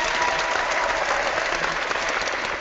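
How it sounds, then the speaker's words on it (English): Canned applause sound effect played during a discussion, a steady, dense wash of crowd clapping with no gaps, uniform in loudness from start to finish. "you got a round of applause for that"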